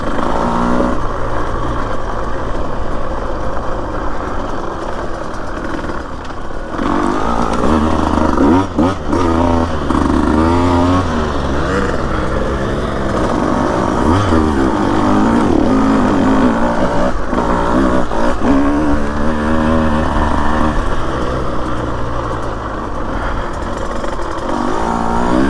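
A Husqvarna TE150 dirt bike engine revs and bogs while riding single track in Florence, Arizona, loud and close, rising and falling as the rider works the throttle and clutch, with brief dips between bursts.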